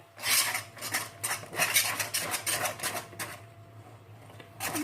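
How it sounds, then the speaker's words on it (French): Dark chocolate snapped into pieces for a banana cake, a run of crisp, close cracking and clicking bursts in quick irregular succession, then a pause and one last snap, with no talking. "casser des morceaux de chocolat noir"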